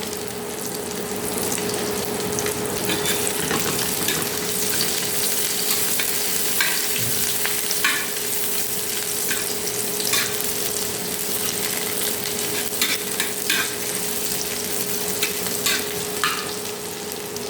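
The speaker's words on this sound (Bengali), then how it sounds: "এভাবে নেড়ে চেড়ে ব্রাউন কালার করে নিব" Dried red chillies fry in oil in a pan, a steady close sizzle with occasional crackles and scraping stirs throughout, no voices.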